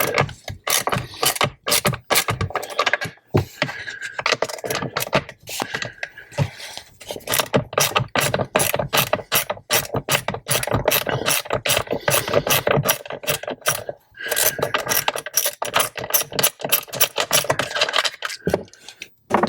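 A socket set ratchet clicks in rapid bursts while tightening a nut on a 2026 Tesla Model Y Juniper screen mount, loud and close, with brief pauses between strokes.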